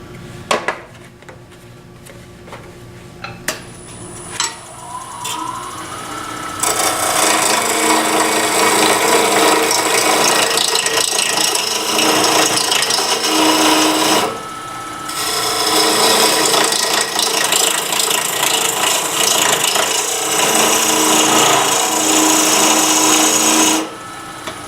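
A skew chisel on a wood lathe digs into spinning wood to strip material fast. A few faint clicks come first, then a loud, steady rasping cut runs for several seconds, breaks briefly, and resumes to the end.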